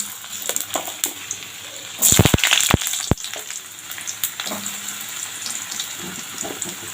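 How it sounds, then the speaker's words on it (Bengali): Potatoes dropped into hot oil with five-spice seeds in a pan, a loud burst of sizzling and spattering around the middle, then a steady crackling fry that settles down, no voices. "প্রথমে এখানে আমি আলুটা দিয়ে দেবো।"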